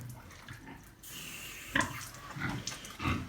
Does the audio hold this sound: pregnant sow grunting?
yes